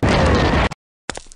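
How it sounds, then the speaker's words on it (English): A loud, harsh burst blasts from a stick figure's laser in an animated cartoon, roaring for most of a second, then a short gap before a few scattered crackling pops. "Whoops! I'm a firing my laser!"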